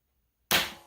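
A single sharp pop from a Nerf blaster firing an Adventure Force Pro Dart pushed to the back of a shotgun shell, breaking sudden silence and fading over a short ring-out, no voices.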